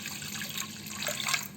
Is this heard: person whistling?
no